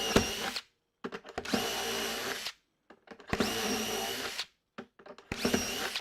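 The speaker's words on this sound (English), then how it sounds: "Make sure you don't put your fingers around the back where you're drilling" A power drill bores into wood on furniture being fitted with casters and handles, running in three long whirring bursts with short stutters and pauses between them.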